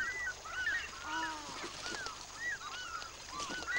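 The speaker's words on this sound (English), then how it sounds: "Tree ducks use the lagoon for a wash and brush up." Tree ducks at a lagoon give repeated whistling, honking calls, several birds overlapping in a steady chatter over a soft outdoor background.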